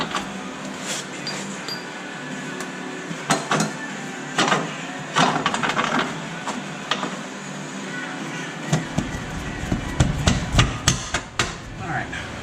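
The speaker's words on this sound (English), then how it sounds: "you might have to beat it a little bit to get the bolt through" A hammer beats a bolt through a tension arm on a Nissan Skyline, producing a series of sharp, close metallic strikes. They come in irregular clusters, grow busier toward the end, and ring against a low background hum.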